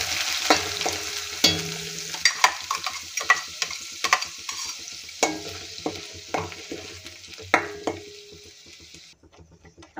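Whole spices and a bay leaf sizzle in hot oil in a pan for dry mutton curry, with a steady close hiss broken by repeated clinks and scrapes from stirring, then the sizzle cuts off near the end.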